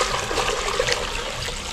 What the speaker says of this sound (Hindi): इसमें देखिए पानी डालते हैं।